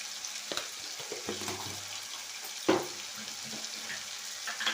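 Turmeric and homemade ground chili powder sizzling in hot oil in a pan, a steady bright frying hiss with a few stirring scrapes and one sharp clatter partway through, close and alone without talk.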